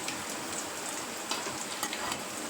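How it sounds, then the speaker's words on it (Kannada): Curry leaves fry in a pan of hot oil with a dense, even crackle and sizzle throughout. A few sharper pops rise out of the frying noise, close by and with no voices. "1 ಕಡ್ಡಿ ಆಗೋಷ್ಟು ಕರಿಬೇವನ್ನ ತೊಗೊಂಡು ಅದನ್ನು ಕೂಡ ಚೆನ್ನಾಗಿ ಫ್ರೈ ಮಾಡ್ಕೊತಾ ಇದ್ದೀನಿ"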